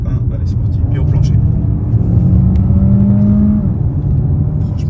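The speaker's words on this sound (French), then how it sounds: "On va lui faire une petite accélération." A quiet car floored in sport mode, building a rising engine tone over a steady low rumble for a couple of seconds before easing off, with voices talking over it.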